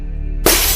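A glass bottle falls and breaks, a sudden loud crash of shattering that bursts out of near quiet and keeps ringing briefly.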